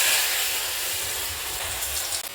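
Bitter gourd fritters coated in salted besan batter sizzle in hot oil, a steady, loud, broadband hiss that holds evenly for the whole stretch with no voices over it.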